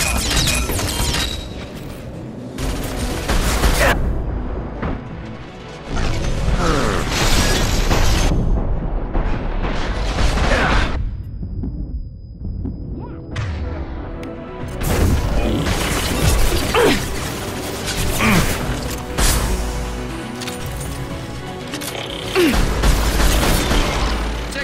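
Loud combat in the video game Mass Effect 2, with repeated gunfire, heavy booms and crashing impacts rolling almost continuously, broken by a brief quieter lull in the middle.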